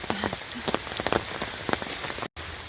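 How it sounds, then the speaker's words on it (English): Rain pattering on a forest trail, steady and soft, with scattered nearer drips and taps over a quiet wash and a brief dropout near the end. "rain is slowing down"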